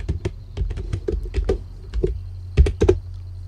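Crisp, loud keystrokes on a computer keyboard while a hello world program in C is typed, individual clicks in uneven clusters with short pauses between, close and clear over a low hum.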